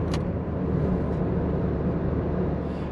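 Cabin of a more-than-20-year-old Peugeot 306 cruising at 60 km/h in fourth gear around 2200 rpm, giving a steady, low, smooth engine and road rumble. The drone is even and fairly quiet, with no voices.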